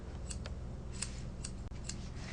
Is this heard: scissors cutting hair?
yes